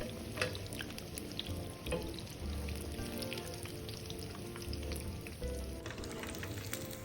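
Dried tofu deep-frying in hot oil until lightly golden, a steady dense crackle and sizzle with scattered pops, close and continuous throughout with no voices.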